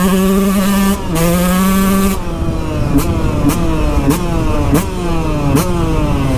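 A Husqvarna CR 125 two-stroke motocross motorcycle accelerating on a road, loud and close, its engine revving up through several gears in rising sweeps with sharp shifts between them.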